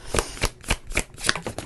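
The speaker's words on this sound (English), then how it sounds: "I want to reshuffle because I wanted to ask a question." Tarot cards being shuffled by hand, a quick series of about seven crisp riffling bursts, close and clear with no talk.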